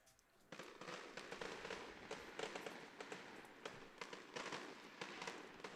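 Fireworks crackle and pop continuously nearby at an outdoor baseball game, a dense run of sharp bursts and bangs with no talk over them.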